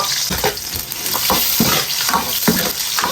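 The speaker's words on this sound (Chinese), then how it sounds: "锅中加油，葱姜蒜爆香" Scallion, ginger and garlic frying in hot oil in a wok before pork belly goes in, a loud dense sizzle with rhythmic scraping stirs and light metal clatter, no talking.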